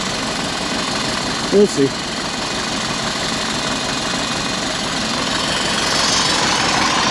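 A two-wheel drive vehicle's engine idles steadily on a winter firewood haul, a low continuous rumble with slight vibration, close and fairly loud, while a person speaks briefly over it.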